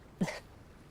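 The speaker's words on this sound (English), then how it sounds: "can't help but sneeze at the sight of a flower" A single short sneeze, set off by spring allergies, bursts out once at moderate volume against quiet surroundings, with no talking.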